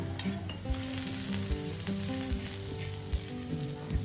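Sesame seeds crackle and sizzle in hot oil in a pan, with continuous frying hiss and occasional soft pops, close up and without voices.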